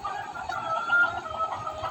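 A Kadaknath chicken clucks in soft, repeated calls close by, with no one talking.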